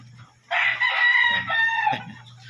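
A rooster crowing in a busy shipping holding area, one loud drawn-out crow about a second and a half long, close by over a low steady background hum.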